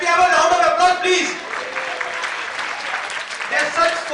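Applause from the audience at a silver wedding celebration's couple games, a steady wash of clapping lasting a few seconds with talk mixed in over it.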